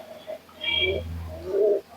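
Two flying pigeons being shown for sale by a longtime keeper give soft low cooing in short bursts, with faint chirps above, close by and alone.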